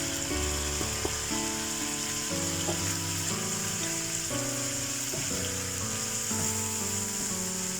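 Masala frying in a pan as the water from prawns cooks off for butter garlic prawns, a steady close sizzle and crackle running continuously under light music, with no talk.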